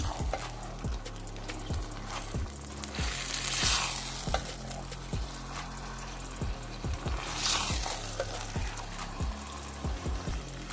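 Chicken do piaza frying and sizzling in a pan, a steady crackling hiss with rhythmic scraping and stirring strokes against the metal, two brief bursts of louder spitting, close and moderately loud.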